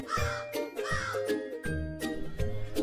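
A crow in an animated moral story about a thirsty crow caws repeatedly, several short rhythmic calls over light tinkling music.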